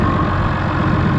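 A Renault 110.14 tractor engine, fitted with a muffler from another tractor, runs steadily at idle, with a low, continuous rumble and a faint knocking throb, close and loud throughout.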